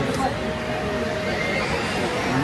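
A busy crowd murmurs outside a temple near Ganpatipule beach, a dense steady babble of many voices close by with nearer speech mixed in.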